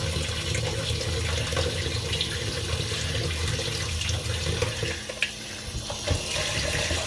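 Tap water runs hard into a sink as rice is rinsed by hand, a steady rushing splash with small shifts and gurgles as the stream is disturbed.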